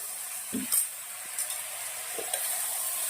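Water splashed into a pan of tindora (ivy gourd) curry cooking Marwari style, a faint ongoing sizzle with a few soft spoon clinks and stirring scrapes.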